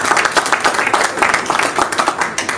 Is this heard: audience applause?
yes